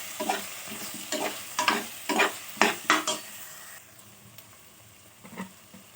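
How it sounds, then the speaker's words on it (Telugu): A spoon stirs ginger paste in a pan for drumstick dal, with several scraping strokes over a soft sizzle that then quiets, close up and without talk. "బాగా మిక్స్ చేద్దాం"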